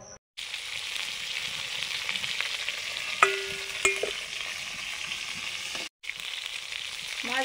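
Pieces of catla fish, freshly netted from a pond, frying in hot oil, a loud continuous sizzle with a couple of metallic clinks and short breaks in the sound.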